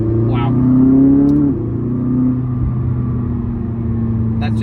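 A McLaren 600LT supercar engine accelerating hard from inside the car, a loud rising roar that peaks, drops with a gear change, then climbs again with a deep steady drone.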